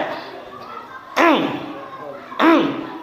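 Two short, sharp throat-clearing bursts punctuate a quiet background at an Islamic lecture, the second following about a second after the first.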